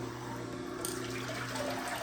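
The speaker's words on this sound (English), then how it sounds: "So let's pour this out." Steady stream of pineapple juice being poured out, a constant soft splashing liquid flow at moderate distance with no talking.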